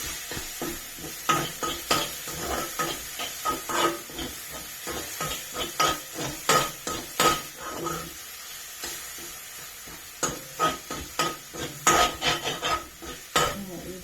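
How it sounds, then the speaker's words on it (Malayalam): Dry masala curry being stirred in a pan, with a spoon scraping and knocking in uneven bursts over a soft sizzle, close and fairly loud, with no talking. "എന്നിട്ട് വീണ്ടും ഇളക്കി കൊടുക്കുക."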